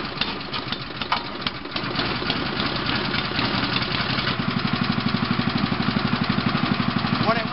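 A drum concrete mixer's small engine runs steadily throughout, its loud, even chug settling into a clear rapid rhythmic putter toward the end, with no talking.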